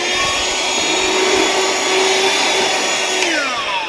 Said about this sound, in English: Got a vacuum cleaner because,